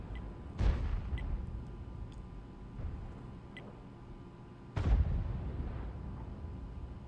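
Two heavy artillery shots from a T92 HMC self-propelled gun in World of Tanks, each a deep booming blast with a rumbling tail, a few seconds apart.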